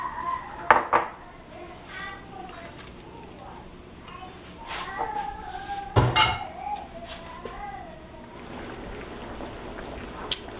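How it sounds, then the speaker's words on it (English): Baby corn and mushrooms go into a pot of yellow chicken curry, with clattering pot and utensil knocks, scattered clinks and a loud thump near the middle over a faint bubbling background. "I'm fixing to add the baby carrots and the mushrooms in right now."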